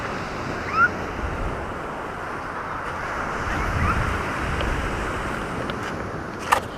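Sea at the shore in Limpapa: a continuous broad wash of surf mixed with wind buffeting the microphone, swelling slightly midway, with a couple of brief sharp knocks and no clear talking.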